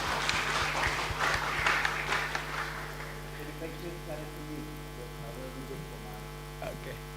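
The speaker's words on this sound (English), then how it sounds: "Big applause." Audience applause at an academic conference on democracy and social transformation, a burst of clapping over the first three seconds that fades out, with a steady mains hum running underneath.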